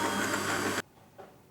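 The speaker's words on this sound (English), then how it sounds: "I'm going to put the dough hook onto the machine and just start to turn the yeast into the flour" A stand mixer turning a dough hook through flour and yeast gives a loud, steady motor whir that cuts off abruptly partway through, leaving near silence and a faint short sound afterward.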